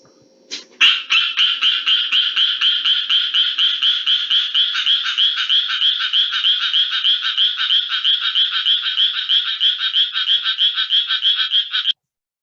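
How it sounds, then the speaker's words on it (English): Synchronized tree frog chorus: a steady, loud train of rapid rhythmic croaks that starts abruptly and keeps an even pulse for about eleven seconds before cutting off. "what you will hear is these tree frogs exhibit synchronized calling"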